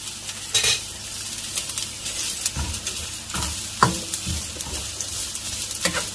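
Long-cut carrots fry in about a tablespoon of hot ghee in a wok, sizzling steadily while a utensil stirs and clinks against the pan at irregular moments, close up with no voices.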